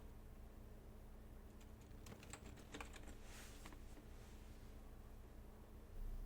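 A short, faint run of keyboard taps clustered in the middle of the clip, set against a steady hiss and low background noise.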